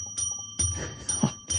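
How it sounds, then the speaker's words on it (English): A small handheld bell is rung repeatedly in a radio studio, bright tinny rings in quick irregular bursts close to the microphone. "He just keeps ringing the bell."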